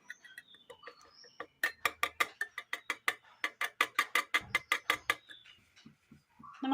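Eggs with pepper powder are beaten in a bowl, a fast series of sharp, close clicking whisk strikes in quick rhythm, with a few quieter taps before and after.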